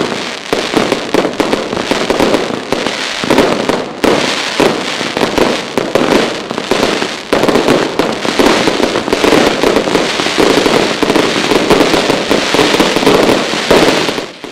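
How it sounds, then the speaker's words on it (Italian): Dense, continuous fireworks display bursting over a town square during a patron saint's feast procession in Sicily, with rapid crackling and booming explosions piling up loudly, close and without pause. "I fuochi pirotecnici in Piazza Roma hanno poi tenuto tutti con il naso all'insù"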